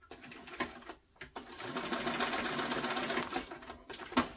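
A sewing machine stitching a tote bag: close, steady mechanical whirring in several bursts, with brief pauses between runs and little talk.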